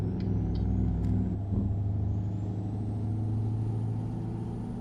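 A 1,000-horsepower truck engine in American Truck Simulator, a deep steady low rumble that holds throughout, with a brief hiss and a few clunks early on.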